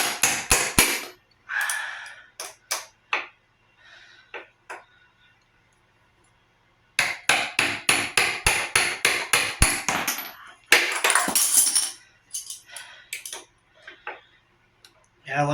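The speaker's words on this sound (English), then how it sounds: "hammer it until it's loose." A hammer strikes the stem of a Joyor S10-S or S5 electric scooter to knock it loose, landing sharp metallic blows in quick bursts, with a steady run of about a dozen evenly paced hits after a short pause.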